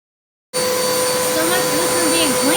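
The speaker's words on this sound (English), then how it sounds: "officially trying out the new vacuum" A new vacuum cleaner switches on abruptly after a half-second of silence and runs with a loud, steady whine with tonal hum, close to the listener.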